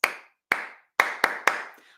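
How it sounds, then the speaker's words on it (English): Hands clapping a rhythm alone, five crisp sharp claps: two slow evenly spaced claps, then three quicker ones, close and clear with short ringing decays. "So if I clap that pattern, it sounds like this."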